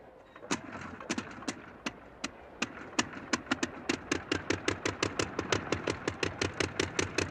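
An early airplane piston engine, from the Curtiss era, sputters to life with a few slow, irregular pops that speed up into a steady, quickening chug as it revs.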